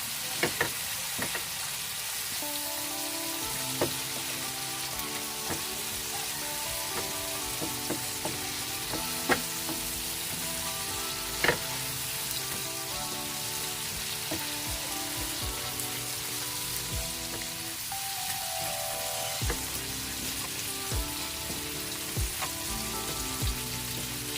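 Tilapia fish sizzling in hot oil in a pan: a steady crackling fry with scattered sharp pops and spits running throughout, while music plays faintly in the background.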